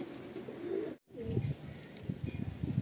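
A pair of Madrasi pigeons coo in low, soft, throaty pulses, close by, with a brief silent gap before the cooing resumes in repeated short bursts.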